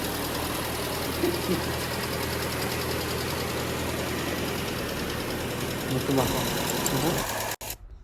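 A Chevy Cruze engine runs steadily with a rapid ticking from the valve train, loud and continuous for most of the stretch, then cut off near the end.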